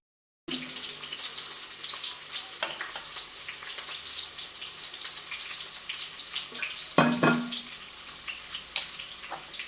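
Pumpkin pieces sizzling and frying in a pan, a steady low crackle with occasional utensil clinks and one louder scrape near the end; no one speaks.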